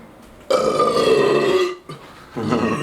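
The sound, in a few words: burp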